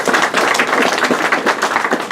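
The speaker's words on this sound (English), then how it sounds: "Yes, give it a round of applause" A school audience bursts into loud, sustained applause at a keynote address, dense overlapping hand claps filling the room evenly from start to finish.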